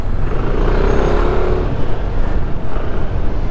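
Heavy rush hour traffic on Commonwealth Avenue, with a dense, steady roar of cars, trucks and buses close by and a brief hiss like an air brake partway through, with no talk over it.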